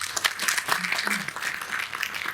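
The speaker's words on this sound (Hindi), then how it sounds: "ताली बजाओ यहाँ।" An audience at a poetry recital applauds, a dense, steady patter of many hands clapping at moderate volume throughout, with a voice faintly mixed underneath.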